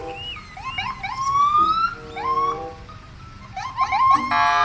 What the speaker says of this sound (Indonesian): Wih, ada mobil polisi.